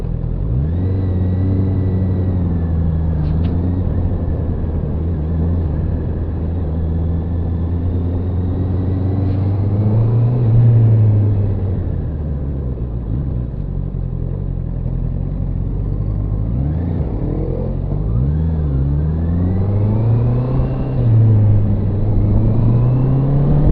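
A Honda CBR650R sportbike rides through traffic, its engine a continuous close rumble that rises and falls as the rider rolls the throttle on and off, with wind noise and no talk.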